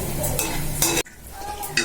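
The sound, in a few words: frying in hot oil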